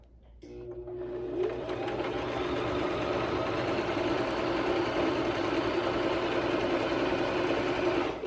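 A sewing machine stitches a straight seam on a log cabin pillow, starting up after a brief pause and running as a steady, close, continuous whirring hum.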